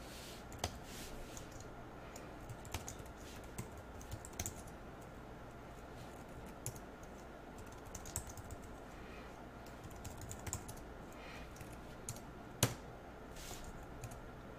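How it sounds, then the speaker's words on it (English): Quiet computer keyboard typing fills a web form in steady, light clicking bursts over a low background hum, with one sharper keystroke near the end. "let's type anything we want in there"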